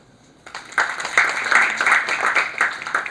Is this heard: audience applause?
yes